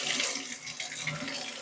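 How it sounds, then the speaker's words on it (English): Tap water runs steadily into a basin over a hot coconut shell, a close, continuous splashing gush with no voices. "Now you move it over here in the basin, you run the tap"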